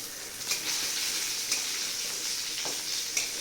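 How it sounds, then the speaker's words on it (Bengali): Fish frying in a pan until red and crisp gives a steady, moderate close sizzle throughout, broken by a few soft clicks and knocks of stirring; no one speaks. "আমাদের মাছ ভাজা কমপ্লিট, সুন্দর করে লাল মচমচ করে ভেজে নিয়েছি।"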